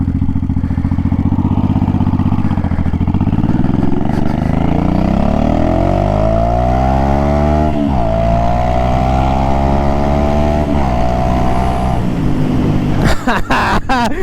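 An old Shadow motorcycle engine runs loud and close, idling with a slightly stumbling beat before revving up and settling, its pitch rising and falling, ending in sharp clattering knocks.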